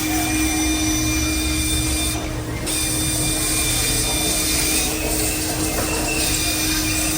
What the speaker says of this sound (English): So we get here, we're gonna do the final cylinder hone.